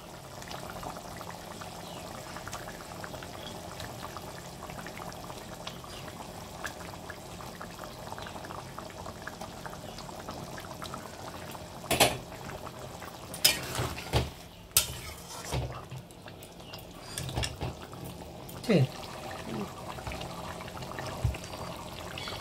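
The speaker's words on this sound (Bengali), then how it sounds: "ঝোলটা ফুটে উঠেছে, এর মধ্যে আমি মাছগুলো ছেড়ে দিচ্ছি।" Snakehead fish going into a bubbling curry gravy in a pan, with a steady low simmering hiss followed by a few sharp splashes and clinks at close range, and no talking.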